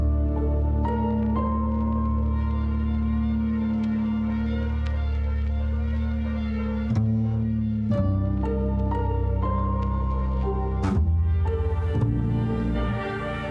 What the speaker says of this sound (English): it emulates that kind of old vinyl sounds when the tone wasn't exactly precise